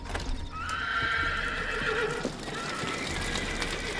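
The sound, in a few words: horses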